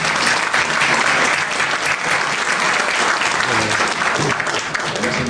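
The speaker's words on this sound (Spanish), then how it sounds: "Voy a tener un aplauso para mi equipo" A dense, steady wash of applause from a conference audience cheering a social-media team fills the whole stretch, loud and unbroken, with no voices rising above it.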